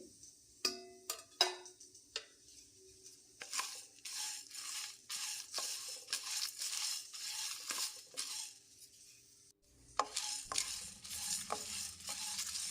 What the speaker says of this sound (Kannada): ಇದಕ್ಕೆ ನಾನು ಕರಿಬೇವಿನ ಎಲೆ ಹಾಕ್ಕೊಳ್ತೇನೆ ಒಂದು ಹತ್ತು ಹಾಗೆ ಸಾಸಿವೆ ಜೀರಿಗೆ ಹಾಕ್ಕೊಳ್ತೇನೆ